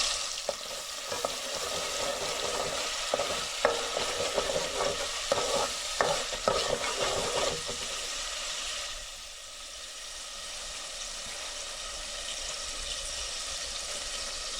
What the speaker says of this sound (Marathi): मस्त तेल गरम झालं आहे वाटण टाकू आपले